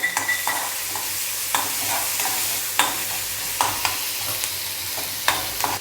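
Onion fries in a hot kadai with a steady, close sizzle, punctuated by periodic scrapes and taps of a spatula stirring against the metal.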